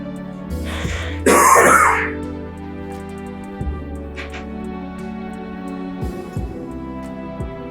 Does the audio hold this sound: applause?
no